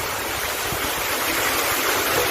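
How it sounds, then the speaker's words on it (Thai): Water trickles and splashes down an artificial stalactite rock feature at Wat Rong Khun, a steady close wash of falling water with no voices. "นี่นะที่น้ำไหลลงมาจากข้างบนด้วย ไหลลงมาจากช่วงนั้นนะครับ"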